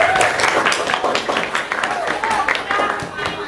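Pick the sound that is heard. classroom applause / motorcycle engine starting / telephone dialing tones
classroom applause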